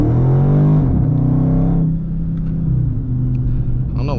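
A Dodge Challenger Scat Pack spinning a donut on slippery ground gives a loud, close engine rumble that holds a steady droning tone, then revs and dips before settling into a lower idle-like growl.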